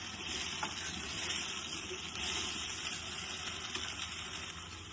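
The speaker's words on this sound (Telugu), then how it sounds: "ఇప్పుడు దీంట్లోకి కొద్దిగా పాలను వేసుకుందాం. వేసుకొని బాగా కలుపుకుందాం." Milk is poured into a hot pan of pumpkin kheer and stirred, making a steady, fairly quiet hiss and bubbling wash with faint scraping of the spoon throughout.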